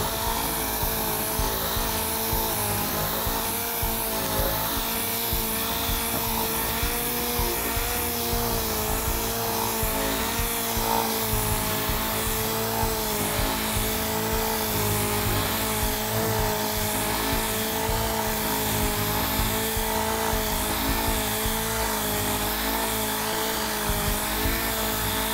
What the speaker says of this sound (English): you're going to go up and down on the edges to make sure again that it's uniformly sanded